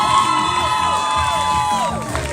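Loud, dense cheering from a crowd at the 2018 Miss Ogle County pageant as the first runner-up is honored, with many overlapping high-pitched shouts and squeals layered over a constant roar.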